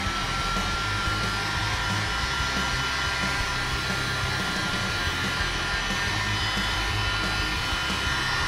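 A heat gun blows steadily on the rear bumper emblem letters of a Corvette C6, a constant, fairly loud airy whoosh with a faint whine and no change across the stretch.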